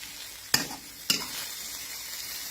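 Fish with roe frying in a pan over raised heat, a steady close sizzle broken by two sharp clanks of a utensil against the pan.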